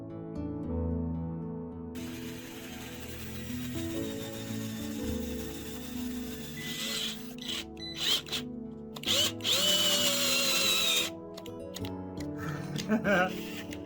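A power drill whirs in several short and longer bursts, close and loud, with stops in between and voices talking at times.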